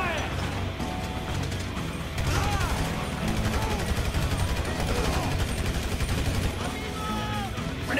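Rapid bursts of automatic gunfire and a grenade launcher in Grand Theft Auto 5, a dense, continuous barrage of shots and mechanical clatter with shouting voices over it.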